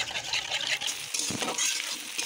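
Eggs with salt are beaten in a bowl, giving a quick, irregular whisking and splashing rhythm, moderately close, with a faint frying sizzle behind.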